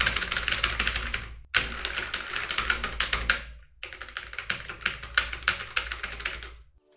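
Rapid clacky typing on a Redragon K736 Pro magnetic keyboard, dense bursts of keystrokes in three runs separated by brief pauses, close and fairly quiet with no voices.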